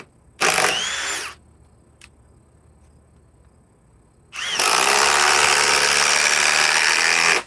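An impact driver removing a fastener: a brief loud burst of hammering, a pause with faint background, then a longer sustained rattling run up close.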